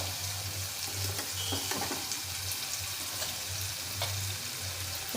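Onion fries with salt in a pan for a curry, giving a faint, steady sizzle with soft crackles and occasional stirring scrapes close by.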